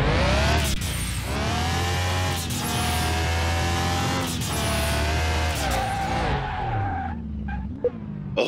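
A Nissan Skyline GTR R34 engine revs hard, its loud sustained rising and falling pitch holding steady before cutting off near the end.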